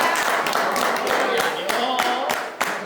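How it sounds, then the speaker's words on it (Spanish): A church congregation claps in a steady rhythm to applaud group number five, the claps fairly close and mixed with voices talking over them. "Muy bien, denle un aplauso."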